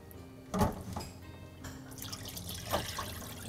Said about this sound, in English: Pouring the milk off the chicken and wash it with water.